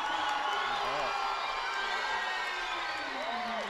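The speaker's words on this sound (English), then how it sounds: "Now the Anacortes crowd comes alive" A high school basketball crowd in a gym roars and cheers after a made three-pointer, a dense sustained wall of shouting and whoops with scattered voices close by, steady and loud throughout.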